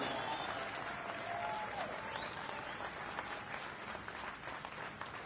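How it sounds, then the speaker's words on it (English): An outdoor rally crowd in the bleachers applauds steadily, a dense wash of clapping with faint whistles and cheers mixed in. "Give them a round of applause, will you?"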